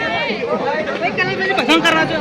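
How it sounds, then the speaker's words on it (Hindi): A dense crowd of pilgrims chattering at the Gaurikund ghat on the Kedarnath route, a loud close mass of overlapping voices filling the whole moment. "गौरीकुंड से निकल चुका हूँ, बहुत खचाखच भीड़ है"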